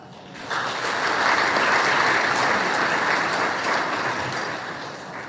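An audience at a high school event applauds freshmen players, a dense, steady wash of many hands clapping that swells quickly, holds for several seconds, then begins to thin out.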